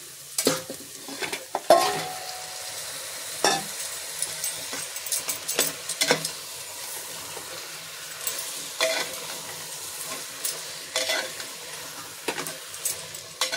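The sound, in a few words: mutton frying in spice masala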